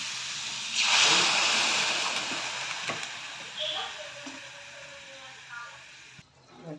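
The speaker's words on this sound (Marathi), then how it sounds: "थोडंसं पाणी पण टाकून घेते मी" Water is poured into frying onion-garlic masala with chili powder and salt for a paneer dish, setting off a sudden loud sizzling splash that slowly fades, with a faint voice in the background.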